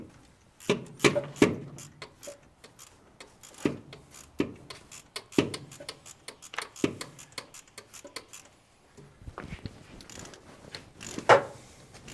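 A hand wrench torques bolts on a 1957 Chevy 210, giving quiet, close bursts of sharp clicking and ratcheting separated by short pauses.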